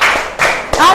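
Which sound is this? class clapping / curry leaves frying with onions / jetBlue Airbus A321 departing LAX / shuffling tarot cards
class clapping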